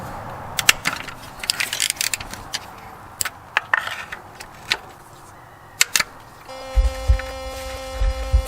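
A ratchet works the valve cover bolts on a 2.7L second-generation Toyota Tacoma, giving scattered sharp clicks close by. A steady hum with rattling takes over near the end.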